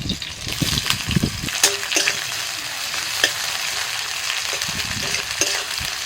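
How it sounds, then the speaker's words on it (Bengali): Green chillies, dried chillies and chopped onion fry in hot oil in a wok, giving a steady, close sizzle broken by the scrape and clatter of stirring. "আবারও কড়াইতে তেল দিয়ে দিয়েছি দিচ্ছি কাঁচা লঙ্কা শুকনো লঙ্কা পেঁয়াজ কুচি"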